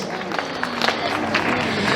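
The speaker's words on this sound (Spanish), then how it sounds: "Fuerte los aplausos." Wedding guests break into a short burst of applause, close and moderately loud, with scattered claps and crowd murmur.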